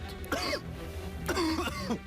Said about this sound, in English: just because I'm coughing, like, damn, this strong, bro.